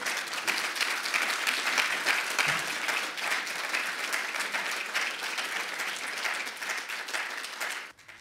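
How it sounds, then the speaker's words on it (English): Sustained audience applause at a migration and development conference forum, a thick, even roar of many hands clapping that carries for about eight seconds before cutting off abruptly. "On peut les applaudir."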